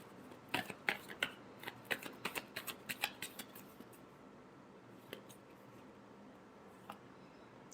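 Tarot cards are shuffled up close in a quick burst of crisp riffling flicks for about three seconds, followed by quiet with a couple of isolated card snaps.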